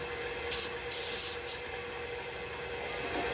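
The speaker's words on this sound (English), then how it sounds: "And I'm going to spray them with Baker's Joy. This is the cooking spray and flour all in one." Cooking spray with flour mixed in, Baker's Joy, misted into loaf pans in short hissing bursts, two or three quick sprays close by over a steady room hum.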